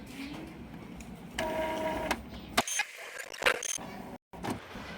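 An Epson L3210 printer running a cleaning cycle whirs and grinds mechanically, with a tonal motor whine, clicks and brief gaps, close and steady.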